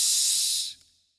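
A voice imitates a pressure cooker whistle on a cooker of vegetables, giving one loud, breathy hiss that holds steady, then fades out over about a second.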